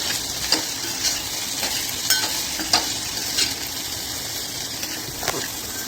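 Okra with salt stirred in a hot pan, a steady close sizzle running throughout with scraping spatula strokes at irregular intervals; no talk.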